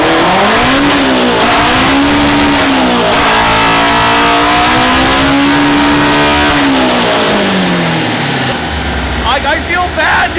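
A K-swapped Toyota AE86 engine revs hard on a dyno, a loud sustained high-rpm wail that rises and falls through several pulls before cutting off near the end.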